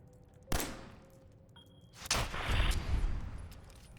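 Gunshots in the video game Fallout 4, aimed at roaches: a sharp report, then after a pause a louder blast with a rumbling, booming tail, all in game audio without speech.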